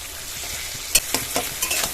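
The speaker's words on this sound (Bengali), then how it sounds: "মশলাটা ভেজে নিচ্ছি" Ginger-garlic paste, salt, turmeric, chili powders and cashews fry in a pan over a medium gas flame for butter chicken, a close sizzle broken by several sharp stirring scrapes.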